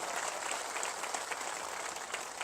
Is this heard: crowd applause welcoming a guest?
yes